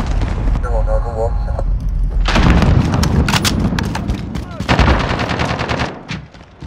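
Heavy gunfire in Call of Duty: Modern Warfare, loud rapid bursts of automatic fire and booming shots close by, mixed with game sounds and brief voices.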